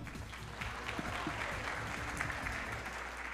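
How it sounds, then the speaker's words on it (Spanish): An audience at a sales event claps for the next speaker, with steady, dense applause from a room of people throughout. "Vamos a darle un fuerte aplauso"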